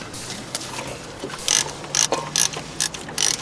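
A 3/8-inch ratchet turns wheel hub bolts during a front wheel bearing and hub replacement on a 2001 Pontiac Grand Am, giving several short, close bursts of rapid ratchet clicking separated by brief pauses.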